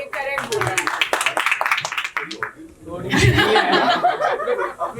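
An audience at a film press meet claps in a loose burst, mixed with chuckles and laughter, while people talk over and around the applause; the clapping swells in the second half.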